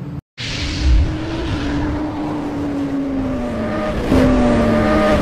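A Bajaj Freedom 125 motorcycle ridden on the road, its engine droning steadily and close, with a slight rise in pitch and a brief shift near the end; no talk.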